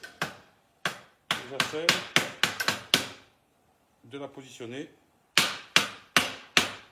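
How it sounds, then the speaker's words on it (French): Hammer tapping a metal ceiling furring channel into place while building a suspended drop ceiling, a quick run of sharp close metallic knocks, a pause, then four more evenly spaced taps, with someone speaking briefly in between. "Donc je vais juste l'enclencher avec le marteau."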